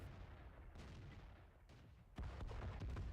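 The AMX 13 F3 AM self-propelled artillery gun firing in World of Tanks. Faint, distant booming thuds come amid low rumbling, with a sharper, heavier blast near the end.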